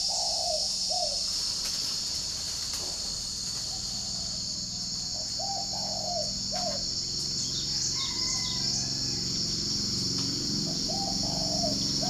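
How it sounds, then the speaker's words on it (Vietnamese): Wild birds call back and forth outdoors on a morning, repeated cooing calls near and farther off, over a steady high insect buzz and faint background hum. "Nó đang gọi nhau mấy con chim rừng ở ngoài."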